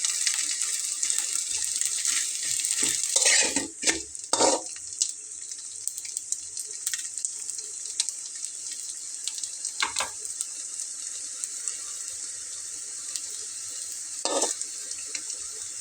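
Bengali breakfast snacks fry in oil, four pieces at once, giving a steady bright hiss with bursts of spattering crackle and a few louder clatters, no talking.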